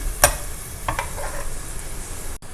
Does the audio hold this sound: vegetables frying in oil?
yes